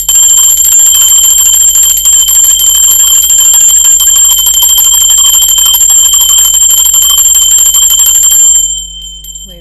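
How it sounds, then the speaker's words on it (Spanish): A bell rings loud and sustained with bright high overtones, holding steadily for about eight and a half seconds before cutting off, alone with no talk. "Ahora sí, va campana."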